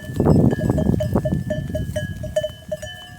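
A pasture flock of mixed-breed sheep, including Merino, Pırlak and Kıvırcık, gives repeated overlapping bleats nearby, with soft shuffling and a faint bell-like tinkle over the scene.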